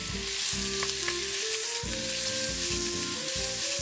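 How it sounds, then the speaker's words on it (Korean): Sliced beef stir-frying in a spoonful of coconut oil gives off a steady, close, loud sizzle that runs unbroken throughout, with a low tonal hum underneath. "썰어놓은 소고기 먼저 볶아줄게요"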